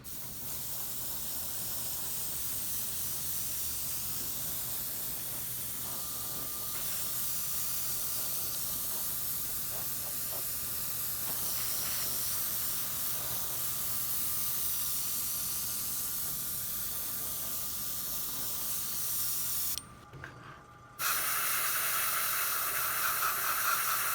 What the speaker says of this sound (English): the airbrush at about 12 to 16 inches away, and we're just going to put a light little mist coat on it